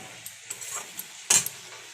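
Soybean curry stir-frying in a pan, a soft sizzle with light spatula scrapes and one louder clatter midway, close but fairly quiet.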